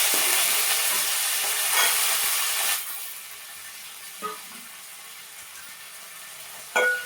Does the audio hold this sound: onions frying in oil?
yes